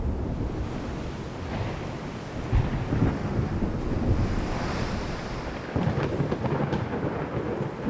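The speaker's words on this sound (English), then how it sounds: "of course it's a storm" Thunderstorm at sea in the naval game Ultimate Admiral Dreadnoughts: a continuous roar of wind and rain with low rumbling thunder swelling at intervals, loud and enveloping, with no talking.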